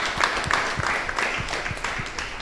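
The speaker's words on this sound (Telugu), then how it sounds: "చప్పట్లు కొడదామండి దేవునికి మనస్ఫూర్తిగా" A church congregation claps during a Lenten prayer service. The applause is moderate and steady, with individual claps landing in a loose, regular beat.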